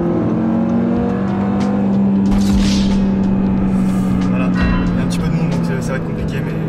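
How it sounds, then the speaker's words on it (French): An Audi RS3 accelerates hard onto a motorway, its engine note heard loudly from inside the car as a sustained rising roar with road and wind noise. "on va prendre l'autoroute. C'est parti, on va essayer de s'insérer dynamiquement"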